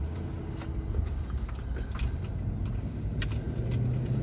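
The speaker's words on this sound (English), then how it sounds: "Driving the car." A car drives along with a low steady rumble of engine and road noise, and small interior rattles and jangles come through over it. No one speaks.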